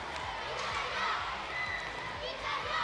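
French and Bulgarian fans cheering at the 2022 ITSF World Cup women's classic foosball final, a brief, continuous crowd roar filling the hall while a commentator talks over it.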